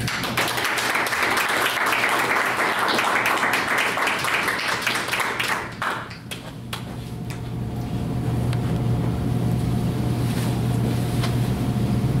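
An audience gives a seminar speaker a warm round of applause at a Humphrey Fellowship climate change seminar. Dense, steady clapping fills the room for about six seconds, then fades into quiet room hum.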